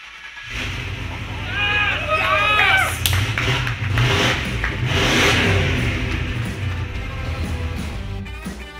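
A newly built race car engine turns over and catches for its first start, then runs with a rough, rumbling idle and occasional revving, close by, with some voices underneath.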